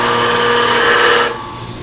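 A scraper cutting a segmented wooden hollow vessel spinning on a lathe, giving a loud, sustained, ringing tonal whine that drops in pitch and softens near the end.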